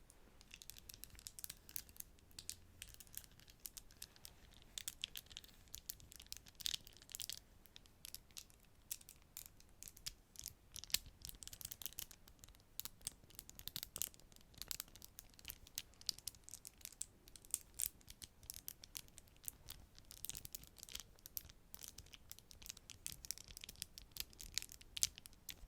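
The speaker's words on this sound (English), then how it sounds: "I'm going to bring back the plastic fidget" A plastic fidget toy handled close up, a long run of quick dry crinkling clicks and scratches at a quiet, steady level, with no voices.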